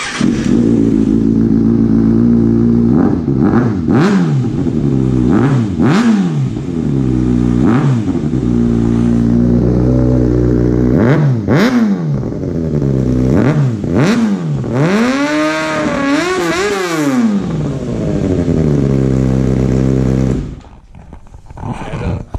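A loud engine with a newly installed exhaust revs repeatedly, its pitch sweeping up and down in bursts, with a deep rumbling exhaust note that idles briefly before cutting off.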